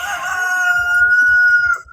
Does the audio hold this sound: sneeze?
no